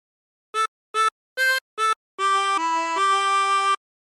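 A 24-hole tremolo harmonica plays a phrase of a song: four short wavering notes followed by three longer sustained ones, clear and close with silence around them.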